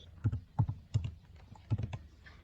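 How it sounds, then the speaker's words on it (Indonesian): Someone types a short Python command on a computer keyboard, producing crisp, close keystrokes in small clustered bursts with brief gaps between them, and no one speaks. "Terus kita ketikin aja Python index.py."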